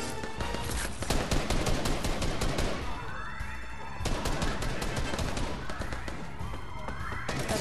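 Dense, continuous gunfire from the video game Fortnite, with overlapping rapid shots and bursts running throughout, loud and busy with a game soundtrack underneath.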